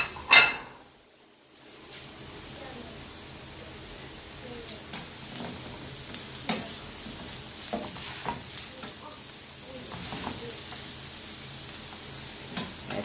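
Sweet pepper sizzling in a pan while cooking Jamaican ackee and saltfish, a steady soft frying hiss with occasional stirring clinks, after a brief knock at the start.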